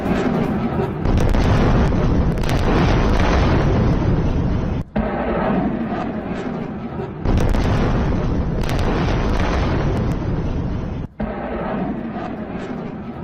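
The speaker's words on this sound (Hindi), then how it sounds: "एनर्जी ठिकानों पर मिसाइल हमला हुआ है" Missile strikes hit energy sites and oil refineries in news footage: loud, sustained roaring blasts and heavy rumbling across two separate shots, with a brief break between them.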